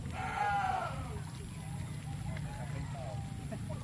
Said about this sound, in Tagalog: May mga kambing pa dito.